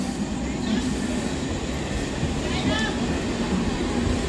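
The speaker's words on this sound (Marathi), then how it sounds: "ट्रेन चालली बाय नवीन ट्रेन आहे" A new train rumbles past nearby at Boisar with a constant roar and a couple of faint squeals from the wheels.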